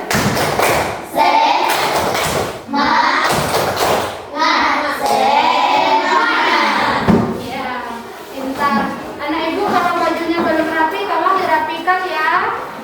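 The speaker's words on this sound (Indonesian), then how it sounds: "ayo kita tepuk semangat dulu" Primary school class performing the rhythmic Indonesian spirit clap, tepuk semangat, with bursts of loud clapping and thumps in a patterned beat mixed with children chanting along, close and lively.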